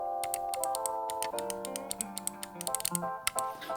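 Rapid, crisp clicks from the buttons of a SteelSeries Aerox 3 wireless gaming mouse, tapped in quick irregular bursts close to the mic over soft background music.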